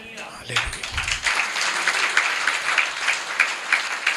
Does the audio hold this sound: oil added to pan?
no